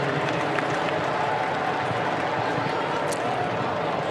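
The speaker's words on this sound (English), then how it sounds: "How about a round of applause for Richmond and Port Melbourne" Steady, dense applause and cheering from a stadium crowd after a VFL Grand Final between Richmond and Port Melbourne, continuous and even throughout with no break.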